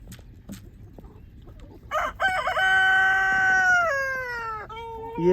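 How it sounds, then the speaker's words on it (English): A rooster crows loudly and close by in a farm chicken coop, one long drawn-out crow with a rising start and sustained wavering call, after a few quiet clucks and faint rustling. "Yeah, Rooster, we know. We know it's you, buddy"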